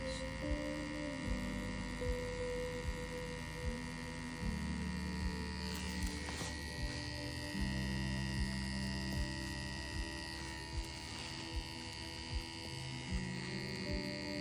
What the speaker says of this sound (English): The motor feels very powerful. It's a direct drive with a swash plate.